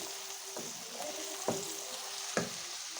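Onions soften in a little oil in a pan, giving a steady, close sizzle with three short stirring scrapes spaced through it.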